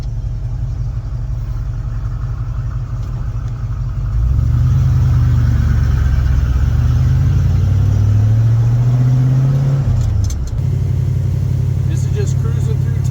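Warmed-up car engine cruising through town in third gear, a steady low drone that swells louder partway through as the load rises, then settles, heard close from inside with no talk.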